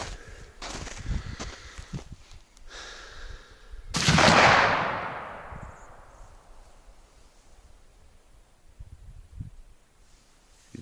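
A single loud hunting-rifle shot cracks outdoors during a test before a bear hunt in Canada, its echo fading slowly across open country, with quiet rustling and handling noises before and after.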